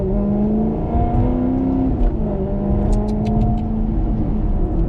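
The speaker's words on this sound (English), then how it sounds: "let me just do the blip. If you downshift, can you hear it?" A Maserati MC Stradale's engine blips and revs loudly on a downshift, a close, sustained snarling drone with rising and falling pitch and a few sharp crackles near the middle.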